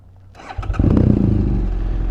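A BMW GS motorcycle with its exhaust DB killer baffle removed starts up and revs to about 4,000 RPM, turning from a cranking whir into a loud, steady, deep engine roar that holds close and constant.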